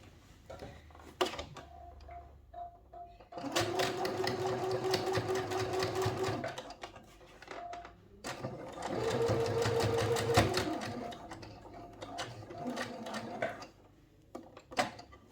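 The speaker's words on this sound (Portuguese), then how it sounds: "Eu vou só iniciar aqui a costura." Sewing machine stitching a flared circle skirt runs in two steady, close-up bursts of about three seconds each, with quiet pauses between them for handling the fabric.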